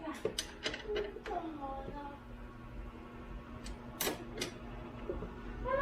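Ratcheting clicks while tightening an aftermarket shock on a Honda Click 125 motorcycle, several sharp close metallic ticks in short bursts over a faint background hum.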